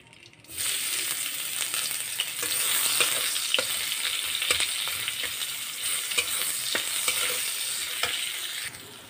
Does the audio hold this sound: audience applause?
no